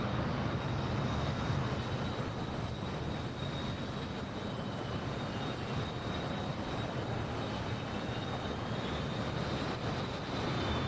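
Jet engines of an F-15E and an F-22 in a flight simulator game set at RAF Lakenheath give off a steady, loud, broadband roar with a faint high whine running through it, and no voices are heard.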